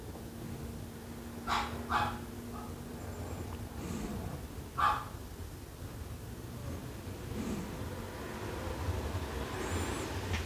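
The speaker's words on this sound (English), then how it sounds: "Sorry for the sound of my dogs downstairs." Dogs barking downstairs in a home, a few muffled, fairly distant barks in short bursts over a steady low room hum, with a faint whimper.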